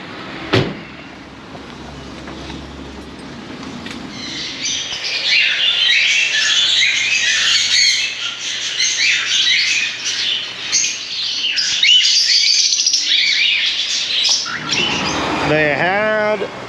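Lovebirds and other caged birds in a small pet shop produce a dense chorus of chirps and squawks, starting after a door thud and continuing, with a faint voice near the end.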